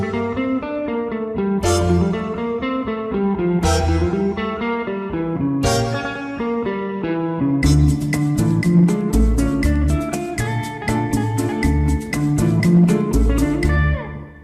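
Stereo backing track of a song playing back at steady full volume, a dense band mix with rhythmic percussion that grows busier partway through, with no voices talking over it.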